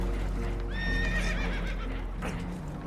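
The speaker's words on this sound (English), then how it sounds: "Horses are spooked, and we're taking on water." A spooked horse whinnies loudly and close in Red Dead Redemption 2, a single rising, wavering neigh amid the clatter of hooves and rushing water during a boat scene.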